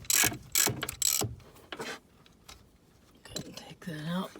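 A socket ratchet clicks as it breaks a bolt loose on an R56 Mini Cooper S during water pump replacement, with several loud close ratcheting bursts, a pause, then more clicks and a brief metallic creak.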